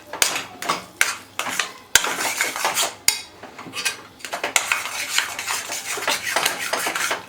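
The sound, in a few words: stirring sweet potato roasting in ghee in a pan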